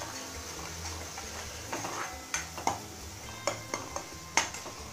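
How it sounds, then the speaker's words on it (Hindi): A metal spoon scrapes and clinks against a pan as masala roasts over a low gas flame for an onion sabzi, with a run of sharp taps and knocks in the second half over a steady low hiss. "पहले मसाला को अच्छी तरह से मिला करके भून लेते हैं"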